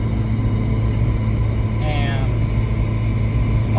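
Ford Fiesta ST fitted with a 2J-racing intake, driving on the road, giving a steady low engine drone and road rumble throughout with a brief faint higher whine partway through.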